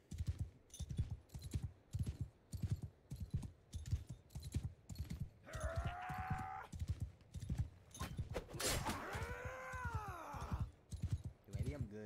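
Rhythmic horse hoofbeats clip-clop steadily in the video game Mount and Blade Bannerlord 2, moderately loud and continuous, with a brief whinny-like tone and other game sounds briefly overlapping midway.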